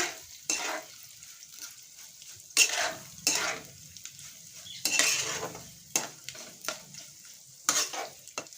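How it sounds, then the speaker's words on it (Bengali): Beetroot pickle with sugar, salt and pickle spice powder being stirred in a pan, repeated scraping and clinking strokes of a spoon in bursts over a faint low sizzle, close and fairly quiet. "সুন্দর করে নেড়ে চেড়ে নিচ্ছি"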